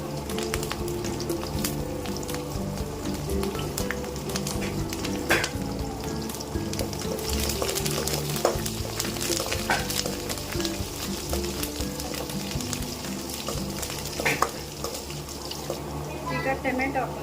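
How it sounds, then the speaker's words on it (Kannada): Curry leaves sizzle in hot oil in a pan while radish sambar is being cooked, giving a continuous, loud frying crackle with clinks of utensils throughout. "ಈಗ ಕರಿಬೇವಿನ ಸೊಪ್ಪು ಹಾಕ್ತಾ ಇದ್ದೀನಿ."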